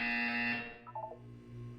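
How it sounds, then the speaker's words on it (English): Electronic buzzer from the video game Portal 2, a loud steady tonal drone with stacked harmonics lasting about half a second, followed by a quieter fading tone and a low hum. "You will hear a buzzer."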